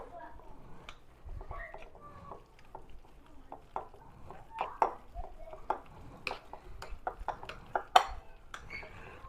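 Buffalo chicken mixture with buffalo sauce stirred in a bowl, producing irregular clinks and scrapes of a utensil against the dish, close and moderately loud, with some talking in the background.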